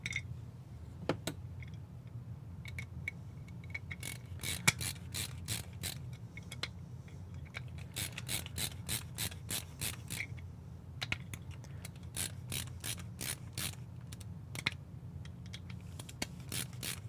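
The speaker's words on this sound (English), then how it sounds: "Let's put some screws in." Screws being driven in with a ratcheting tool during a build, a repeated series of close, crisp ratcheting clicks in bursts over a steady low hum, with no talking.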